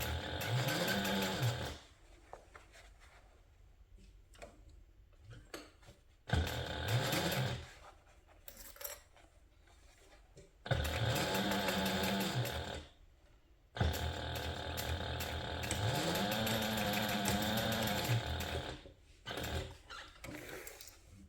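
A sewing machine back-stitches through a thick leather handbag strap, running in four loud, steady mechanical bursts separated by short quiet pauses.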